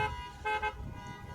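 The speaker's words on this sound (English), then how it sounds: "just lightly honk those horns or hold your phone outside your windows." Car horns give short light honks at a drive-in church service in North Carolina, two brief toots close together over a low outdoor rumble.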